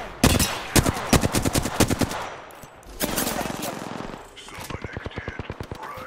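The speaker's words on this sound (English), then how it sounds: "They're shooting at me!" Rapid gunfire in the battle royale shooter Apex Legends, sharp close bursts of automatic shots repeating in clusters, with a longer rattling stretch midway and a faint voice underneath.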